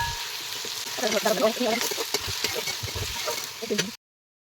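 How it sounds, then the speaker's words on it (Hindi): Pieces of jackfruit fry in hot oil in a home kitchen, giving a continuous close crackling sizzle with some brief stirring noises. It cuts off abruptly. "तो पहले अभी मैं कटहल को तेल में तल रही हूँ।"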